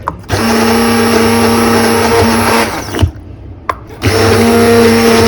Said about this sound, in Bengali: এই যে আমার হ্যান্ড ব্লেন্ডারটা দিয়ে একটু এগুলাকে ক্লিয়ে করে নিচ্ছি